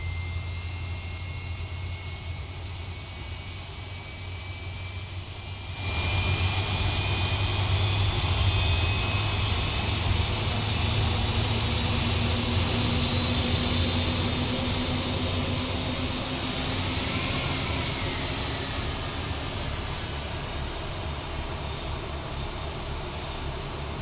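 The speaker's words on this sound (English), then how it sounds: "Anyway, engine coming to life." Jet engine on an Aerosoft A330 airliner in a flight simulator spooling up from quiet, a steady broadband roar with a rising whine that swells, holds loud for a long stretch, then eases slightly near the end.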